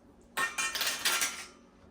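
A metal teaspoon clinks and rattles against a dish while sugar is added for a peach cobbler, a short burst of bright chinks lasting about a second, close and alone.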